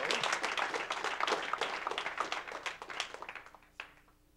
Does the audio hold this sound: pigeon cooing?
no